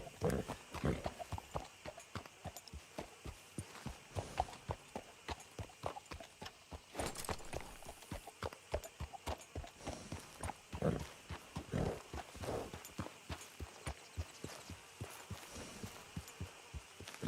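Horse hooves clip-clop steadily at a walking pace in Red Dead Redemption 2, the regular rhythmic thuds close and clear throughout, with no talk over them.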